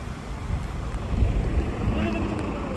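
A motorboat heading out on the sea off Cebu, its engine a steady low drone under rushing wind buffeting the microphone, with people talking faintly over it.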